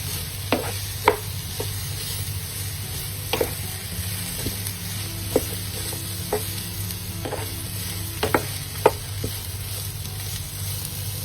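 Mushrooms and vegetables for a veg spring roll filling are stirred in a frying pan: a soft, constant sizzle broken by sharp, irregular spatula clicks and scrapes close by.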